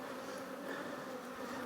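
Honeybees from a colony buzz steadily around an open beehive, a dense, continuous close hum with no pauses and no voices.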